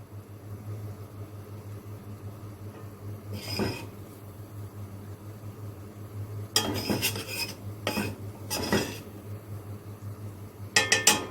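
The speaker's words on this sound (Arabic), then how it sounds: "هبدا انزل باللبن شويه بشويه، وانا بقلب برضو" White sauce stirred in a pan as milk is poured in gradually: a utensil scrapes and clinks against metal in scattered bursts, growing busier toward the end, over a low steady background hum.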